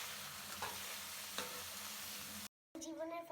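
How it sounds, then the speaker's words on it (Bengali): Vegetables frying in hot oil sizzle steadily at close range while a utensil stirs through them, with occasional scraping knocks, a brief dropout and a soft clatter at the end. "তারপর নেড়ে চেড়ে নিব"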